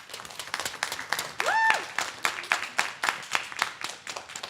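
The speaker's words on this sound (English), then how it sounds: "give this crew another big round of applause" An audience at a computer science education event applauds a research panel with dense, sustained clapping that carries a rolling rhythm, and one whistle cuts through partway.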